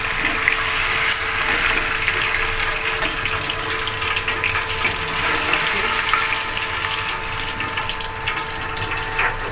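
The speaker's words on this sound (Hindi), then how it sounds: "पानी डालें अम्मी, इसमें थोड़ा सा पानी डालें।" Water being poured into a fish curry gravy in a home kitchen, heard as a steady broadband splashing, hissing wash that holds at an even level throughout, with no talking.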